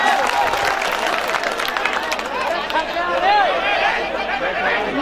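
Audience applause breaks out at a mushaira, a dense, steady patter of many hands mixed with crowd chatter and voices, sustained at a fairly loud level throughout.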